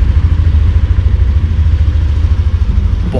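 A 2023 Yamaha Aerox 155 scooter with its 155 cc engine sits idling, giving a steady, close, loud low rumbling exhaust note that holds without a break throughout.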